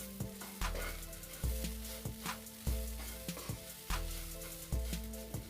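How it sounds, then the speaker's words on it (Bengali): Food fries in a pan over low heat with a continuous sizzle while a spatula stirs it in regular, repeated scraping strokes. "এইভাবে নাড়িয়ে নাড়িয়ে ভালো করে ভেজে নেব।"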